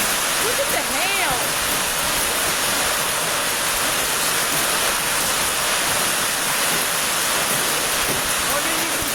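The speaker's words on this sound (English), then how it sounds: "Look at the hail!" Hail pounding down in an Arizona monsoon storm, a dense, loud, unbroken roar of hard pelting across the whole clip with brief voice fragments faintly mixed in.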